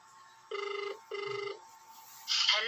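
A telephone bell rings in two short electronic bursts indoors, followed by a brief faint rustle.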